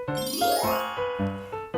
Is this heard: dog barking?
no